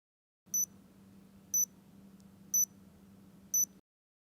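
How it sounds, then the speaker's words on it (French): Four short, high electronic beeps from an insulin patch pump, evenly spaced about a second apart over a faint low hum, then silence. "La pompe patch émet 4 bips."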